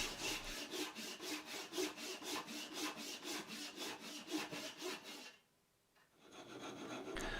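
A hand rasp files excess hardened hot glue off a homemade fishing lure bait, rapid rhythmic scraping strokes, close and steady, pausing briefly near the end before resuming.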